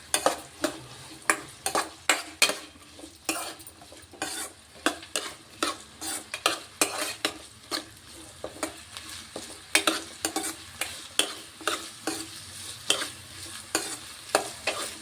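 Onions and green chillies sizzle in hot oil while a spoon stirs and scrapes the pan in quick repeated strokes, close up, with no talking.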